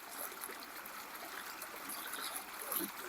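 A small creek flowing at a gold-prospecting spot, a soft continuous trickle and babble of water, fairly faint and steady throughout.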